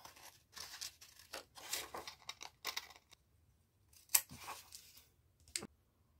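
Scissors cutting paper scraps for journaling, quiet close snips and rustling in short bursts with a sharper crinkle partway through and brief pauses.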